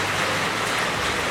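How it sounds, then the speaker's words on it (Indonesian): Heavy rain pours steadily in Pangkal Pinang, Bangka, a dense, continuous hiss of water close by with no let-up and no voices. "Hujannya deras banget."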